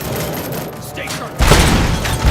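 Gunfire in the game RoboCop: Rogue City, quiet at first, then a sudden loud burst of rapid shots and booming impacts from about the midpoint, with shouting voices mixed in.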